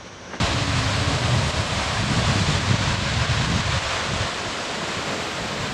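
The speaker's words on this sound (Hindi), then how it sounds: "ये है रेनबो फॉल्स, आपको ऊपर से दिखाई दे रहा होगा, ऊपर से फॉल्स नीचे तक गिर रहा है यहाँ तक।" Rainbow Falls waterfall in Meghalaya roars as a steady, dense broadband rush of falling water, loud and continuous throughout, with wind buffeting the microphone.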